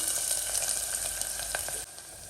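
Chopped onion frying in hot oil with cumin, a steady close sizzle with faint stirring taps that cuts down to a quieter sizzle near the end, no talking.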